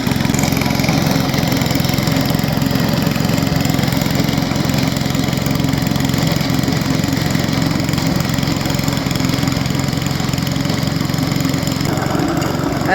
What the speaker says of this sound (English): We finally got enough snow to use the snow blower.